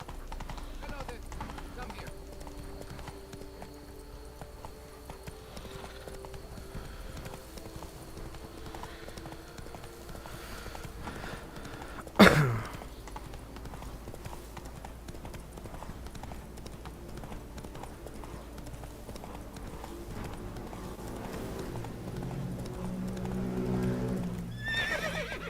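Roach, the horse in The Witcher 3, gallops with steady clip-clop hoofbeats under faint background game sound, broken by one sharp snort or whinny near the middle. Someone speaks briefly.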